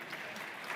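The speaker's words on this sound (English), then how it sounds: "So, an applause for Marco Bellucci." Audience applause at the Benelli EICMA 2025 motorcycle presentation, a steady wash of many hands clapping in a hall, brief and fairly distant.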